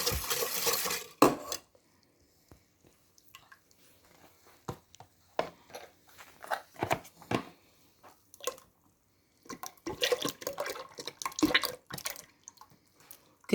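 Spoon clinking and scraping against a bowl while yogurt ingredients are mixed with powdered milk, in irregular close bursts with brief quiet gaps.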